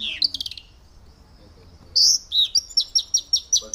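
Caged bush lark chirping close by, a quick burst of calls, a pause, then a sharp rhythmic series of bright repeated chirps.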